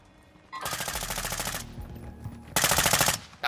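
M4 rifle fire in Warzone 2.0 on the Vondel map, heard as two loud, close bursts of rapid automatic shots, the first lasting about a second and the second shorter, with no talk over them.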